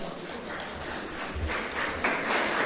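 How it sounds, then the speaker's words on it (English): Audience of parents and guardians clapping at a school circuit gathering with a keynote speech in Namibia, a dense, steady patter of many hands that swells slightly louder toward the end, with faint voices underneath. "Parents and guardians, give yourself a round of applause."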